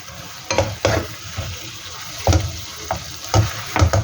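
Tomatoes being crushed and stirred as they sauté in a pan for Filipino ginisang kamatis, with close, irregular scraping knocks of a utensil over a soft, steady sizzle.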